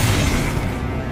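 A Confringo blasting spell explodes in the Hogwarts Legacy video game, a dense low rumbling burst that fills the short moment loudly and then tails off slightly.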